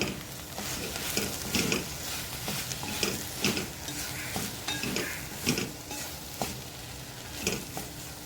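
Dry okra stir-fry gets stirred in a pan, with repeated scraping strokes at an uneven rhythm over a soft continuous sizzle, close and moderately loud.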